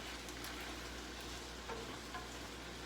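Shrimp pasta ingredients with spinach sauté in a pan, giving a faint, steady low sizzle with soft scattered stirring noises throughout, no talking.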